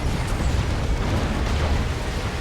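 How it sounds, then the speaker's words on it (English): Cannon fire in the strategy video game Warhammer 40,000: Dawn of War 2 during a 3v3 match, a dense, rumbling blast with continuous heavy booming and battle noise throughout. "Last Cannon shot came in there."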